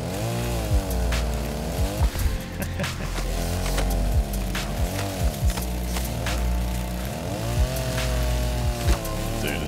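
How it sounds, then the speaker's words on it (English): Chainsaw in Rust Console Edition, its engine revving up and down in repeated surges with sharp clattering hits, loud and close, no talk over it. "Man, I want to get this chainsaw home. Maybe I'll cut a couple of trees on the way."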